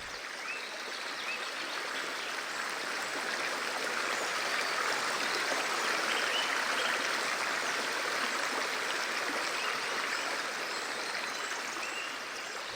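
A rural river runs steadily past a beaver dam across its main stretch on an autumn day, its broad rushing hiss constant and unbroken, with no voices.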